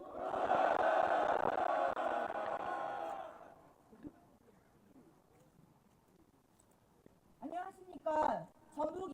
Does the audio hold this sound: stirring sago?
no